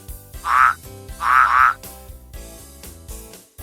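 Two loud bursts of frog croaking, the second a quick double call, rise over a steady musical backing, with no other sound standing out.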